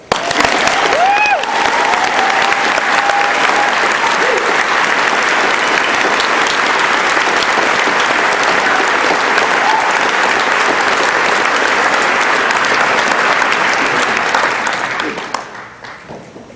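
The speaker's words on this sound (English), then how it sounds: "please assist me in giving a warm round of applause to my fellow graduates, Holy Trinity's graduating class of 2016." A crowd at a 2016 high school graduation ceremony for the graduating class gives sustained, dense applause that stays loud for about fifteen seconds before tapering off at the end.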